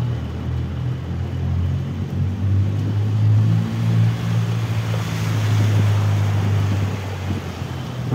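A combi minibus drives through street flood water during the rainy season, a loud continuous engine rumble with rushing, sloshing water spray that swells and passes close by.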